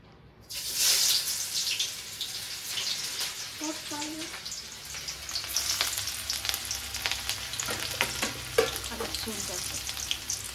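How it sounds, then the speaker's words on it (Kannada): Sliced onion drops into hot oil for a fish curry, setting off a sudden loud sizzle that stays steady and close, with occasional clinks and stirring scrapes over the hiss. "ನೋಡಿ ಎಣ್ಣೆನೂ ಬಿಸಿ ಆಗಿದೆ. ಈಗ ಈರುಳ್ಳಿ ಹಾಕ್ಕೊತೀನಿ."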